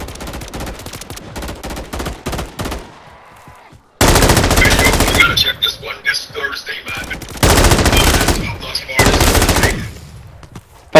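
Call of Duty gunfire crackles in loud rapid automatic bursts, a dense rattling stretch followed by heavier clustered volleys separated by short silent gaps.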